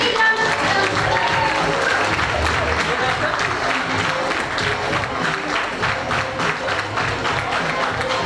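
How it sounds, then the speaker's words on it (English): A school audience at a Women in Leadership event at Jain Heritage School, Belagavi, applauds a first-prize winner with dense, loud, continuous clapping that holds steady for about eight seconds. "Big round of applause."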